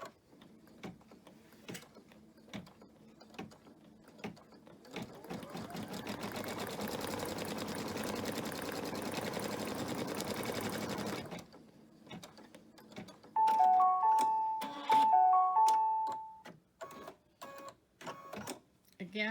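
A sewing machine stitches a placement stitch for a star on a 4th of July flag banner, running in a sustained whirring burst, then a few electronic beeps and short mechanical clicks; a voice speaks intermittently between the sounds.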